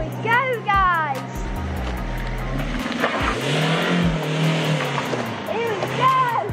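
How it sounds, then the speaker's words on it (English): A car converted to remote control starts up and drives off, its engine droning and revving steadily over several seconds while voices talk excitedly over it. "And then hopefully the car will start going off."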